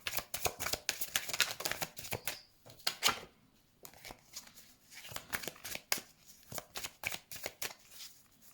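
Tarot cards are shuffled in quick, crisp riffling bursts, close and soft, with brief pauses between runs.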